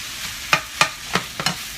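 Seasoned ingredients for fried rice stirred in a pot, four distinct scraping strokes of a spoon spaced about a third of a second apart over a soft background hiss, close by and without talk.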